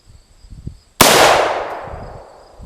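A single sharp AR-15 rifle shot fired at a shooting lesson, loud and close, its blast decaying over about a second and a half after a quiet lead-in.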